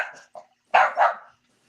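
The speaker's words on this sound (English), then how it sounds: "Please excuse my dog. He's a little nuts." A male dog barks close by: a short yip and a brief whimpering sound, then two loud, sharp barks in quick succession, followed by silence.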